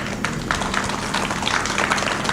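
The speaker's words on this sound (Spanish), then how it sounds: "Se merece un aplauso nuestro amigo." Brief, close applause at a book presentation, with dense, even clapping for about two seconds over a low hum in the room.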